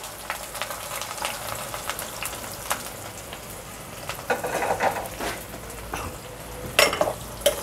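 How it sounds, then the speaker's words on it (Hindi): Onions frying in hot oil for aloo gosht give a steady, close sizzle with faint scraping and light clinks of a utensil against the pan. "प्याज ब्राउन होने का वेट करेंगे हम"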